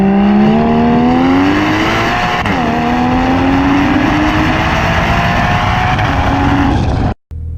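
A Porsche Boxster GTS with PDK gearbox revs hard on a spirited drive, engine note climbing loud and close, dipping at a quick shift and rising again before cutting off abruptly near the end.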